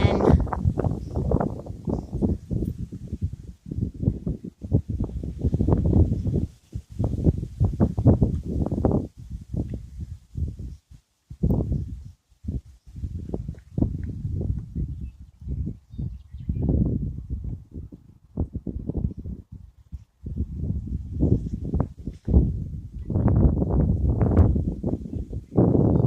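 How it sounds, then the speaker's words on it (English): Gusty wind on a windy day buffets the microphone outdoors among trees, producing a continuous deep rumbling roar that surges and dips throughout. "I just want to share the wind of the day"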